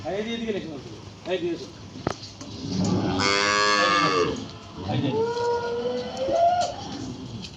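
A calf lets out one drawn-out moo in the middle, with people talking before and after it.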